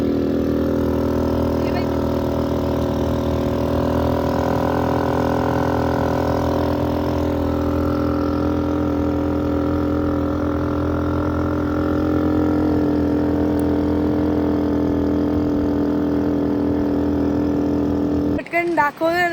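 A car stuck in sand on a beach, its engine idling in a steady low hum with slight revving swells throughout. Voices can be heard faintly, and a brief bump comes at the very end.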